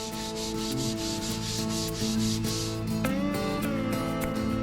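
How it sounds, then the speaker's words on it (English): A painted part is scuffed down by hand before painting, with rapid, rhythmic back-and-forth abrasive rubbing strokes, close and moderately loud over a steady background hum. "So we'll scuff this down and we'll throw it in the booth"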